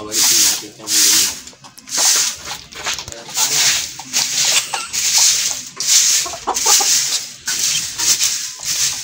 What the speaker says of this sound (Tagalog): wawalis natin itong linis